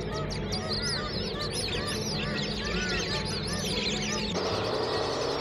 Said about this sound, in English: The sounds of the birds, the ducks, the honking of the geese